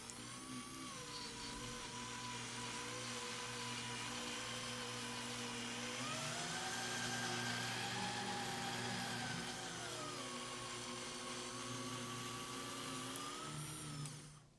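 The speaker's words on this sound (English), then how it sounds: "Lid goes on, motor goes in. Let's change this to the add-in setting and let's spin this in." A Cuisinart FD10 ice cream machine's motor spins steadily on its add-in setting, a continuous close whirring hum with a tonal whine that shifts slightly in pitch as the mixture churns, running unbroken for the whole stretch before cutting off at the end.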